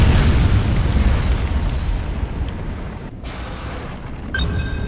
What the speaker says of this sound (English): Nod power plant is destroyed.